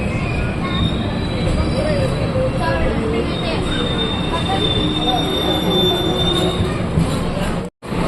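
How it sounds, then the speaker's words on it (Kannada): A passenger train from KSR Bengaluru to Arsikere rolls into a platform loudly with high metallic wheel squeals over a constant rumble, close by and sustained, cutting out abruptly near the end. "ಕೆ ಎಸ್ ಆರ್ ಬೆಂಗಳೂರಿಂದ ಅರಸಿಕೆರೆಗೆ ಹೋಗೋ ಪ್ಯಾಸೆಂಜರ್ ಟ್ರೈನ್"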